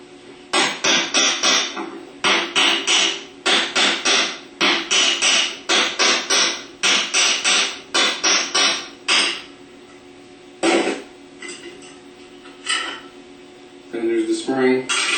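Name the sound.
hammer tapping on starter drive housing clamped in vise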